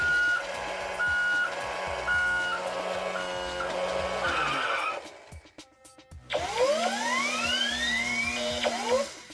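A 2008 Road Rippers Dancing Doors toy Hummer HX Concept backs up. It gives a run of evenly spaced, high reversing beeps over a buzzing motor whine, then a pause and a rising electronic sound effect, close and moderately loud.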